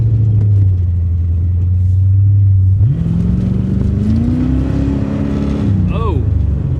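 A 1985 Chevy Corvette pulled from a Florida swamp idles with a deep rumble, then revs up and pulls away, its engine note climbing steadily before a quick rise and fall near the end.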